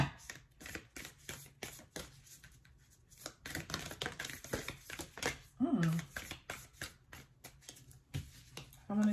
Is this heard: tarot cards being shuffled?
yes